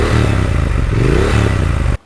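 Triumph Speed Twin 1200 with a 1200cc parallel-twin engine and 270-degree crank, its exhaust thumping loudly and close at a steady lumpy beat with a brief rising rev before cutting off abruptly.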